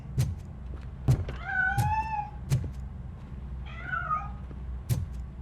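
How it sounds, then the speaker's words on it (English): A cat meowing in the video game RoboCop: Rogue City while hiding inside a piano. Two drawn-out meows sound close and clear between regular dull thumps. "That cat must be hiding inside."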